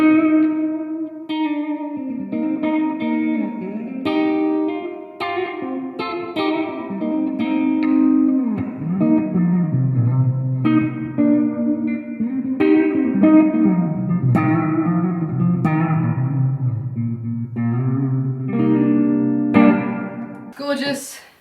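Electric guitar played through a Positive Grid Spark practice amp with its reverb raised, sustained chords and single notes ringing with a wide, washy tail, steady and fairly loud with no talking.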